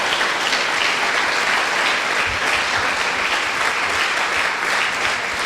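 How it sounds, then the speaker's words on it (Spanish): A church congregation gives sustained, loud applause, a dense steady roar of many hands clapping that fills the space without a break. "Regálenle un aplauso fuerte a nuestro Dios"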